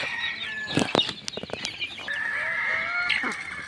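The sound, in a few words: hen with chicks being fed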